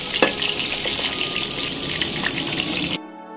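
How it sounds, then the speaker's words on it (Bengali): Pieces of rohu fish frying in oil in a pan give a steady, close, dense sizzle with a few crackling pops, then stop abruptly near the end. "উল্টে পাল্টে মাছ হালকা লালচে করে ভেজে নিয়েছি।"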